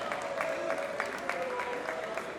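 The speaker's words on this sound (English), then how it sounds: "Let's have a round of applause for them." Audience applause at a Lagos waterfront summit, a steady wash of clapping from a seated crowd at moderate level, with a faint tonal hum running underneath.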